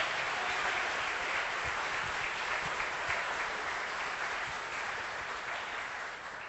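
A church congregation claps together during a worship service, an even, sustained patter of many hands heard from a distance that fades slightly toward the end.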